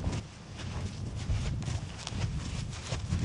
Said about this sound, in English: See, the horse has to maintain the same bend as he jumps.